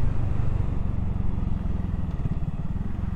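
A BSA 650 Goldstar motorcycle being ridden, its engine a steady close throbbing rumble with a fast pulsing beat and wind noise, continuous and fairly loud.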